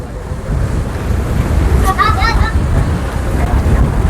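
Strong wind roars and buffets the microphone in a steady, loud rush at the pagoda of Wat Paknam in Thailand, with a brief voice cutting through partway.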